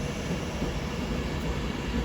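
A train arrives at London Euston from Manchester Piccadilly, filling the brief moment with a dense, continuous rumble of rolling wheels and machinery at close range.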